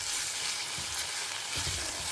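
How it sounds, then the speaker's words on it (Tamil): Onions fry in a pan, turning golden brown, a steady close sizzle and crackle with a couple of soft stirring scrapes, with no voices. "ஸோ வெங்காயம் நல்லாவே கோல்டன் ப்ரௌன் ஆகட்டும்."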